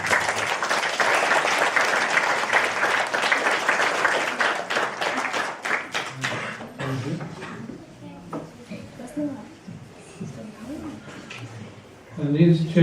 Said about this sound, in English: Can you give her a clap